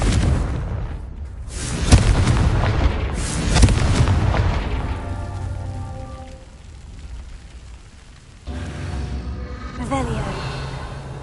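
Fire spell blasts bursting in Hogwarts Legacy, a pair of loud booming explosions early on with rumbling crackle between, then a lower resonant hum and another burst of impact near the end; a voice speaks over parts of it.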